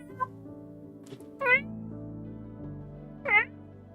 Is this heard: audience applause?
no